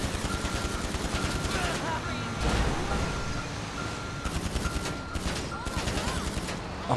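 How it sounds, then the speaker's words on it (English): Rapid bursts of gunfire ring out in GTA as shots are aimed at vehicle tires, a steady stream of close cracks over a rumbling engine and traffic bed, with a short louder thump midway. "we will attempt to shoot out some tires"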